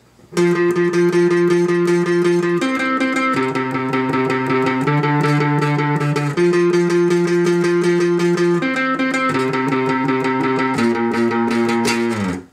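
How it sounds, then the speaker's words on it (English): A distorted electric guitar plays a steady chugging rhythm part, chords shifting every couple of seconds, loud and close throughout with no talking. "as the rhythm guitar player, are going to simultaneously play this"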